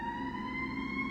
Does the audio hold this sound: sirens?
yes